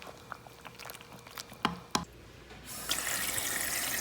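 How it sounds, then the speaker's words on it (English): Cool tap water runs over drained cooked pasta shells in a kitchen sink, a steady close hiss of flowing water that starts after a few soft clinks and knocks. "I'm just going to rinse them a little bit with cool water to stop the cooking process"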